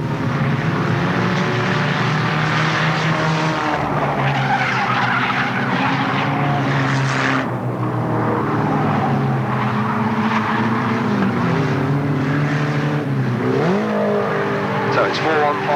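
Race cars at Alwalton Raceway in 1983 roar past on the track in a dense, continuous engine drone, with pitch swells and tyre skids as the first five cars go by, and a commentator talks over it.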